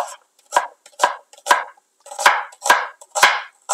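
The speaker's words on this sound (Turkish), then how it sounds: "ben 1 adet soğanımı piyazlık olarak doğruyorum" A knife chops an onion for salad on a board, about seven crisp separate cuts in an uneven rhythm, close and clear with no talking.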